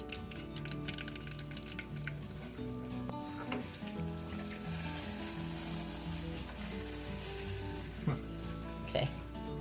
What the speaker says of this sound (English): fry, the English muffins. This cast iron pizza pan. We're using it as a skillet.